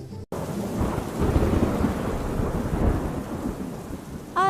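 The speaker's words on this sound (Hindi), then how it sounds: "अरे पता नहीं ये बारिश कब रुकेगी।" Cartoon rainstorm in a jungle: heavy rain hisses steadily throughout after a brief cut at the start, with rolling thunder rumbling low underneath and no voices.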